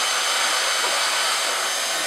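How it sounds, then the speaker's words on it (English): A handheld hot air welder used to repair HDPE fabric blows a steady, loud, close whooshing hiss without a break. "We'll grab our welder,"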